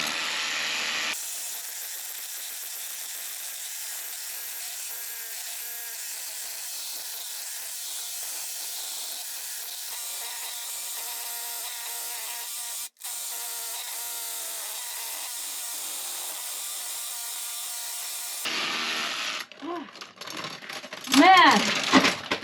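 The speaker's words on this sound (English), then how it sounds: "I might just have to drill through it." Long continuous grinding noise of a hammer drill boring through material inside a tiny house, loud and steady, with a brief pause midway, then stopping as rustling and handling sounds follow.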